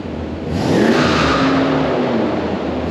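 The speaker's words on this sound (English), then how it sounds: "Let's rev it up." A 1968 Plymouth Fury's engine is revved from idle up to a loud, steady high-rpm roar that holds close by for a few seconds.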